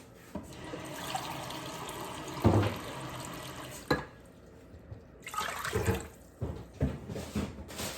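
Water runs steadily from a tap with a brief pause midway, then resumes with some splashing and clinking in a sink.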